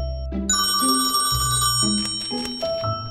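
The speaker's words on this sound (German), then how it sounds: "Doch kann es schon passieren, dass ein grauenhaft altmodisch anmutender Klingelton die erhoffte Ruhe recht unsanft" An old-fashioned telephone ringtone chimes in a loud, continuous sequence of bright bell-like tones that step up and down in pitch, with no voices.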